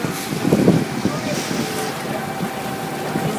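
Harbor shuttle boat ride in Newport, Rhode Island: a steady low engine drone and water rush with wind buffeting the microphone, with a voice talking faintly in the background.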